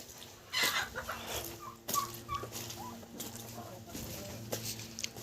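Young turkey poults calling around a farmyard, giving scattered chirps and clucking cries at uneven intervals while a voice speaks faintly in the background.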